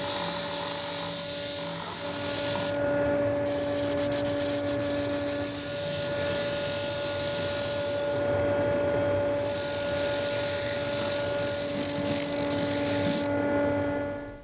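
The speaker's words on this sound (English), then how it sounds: "I'm going to go sand this up." Epoxy resin block being sanded flat for a spider and beetle diorama, a steady continuous abrasive rubbing with a machine-like hum throughout, loud and close, with no talk.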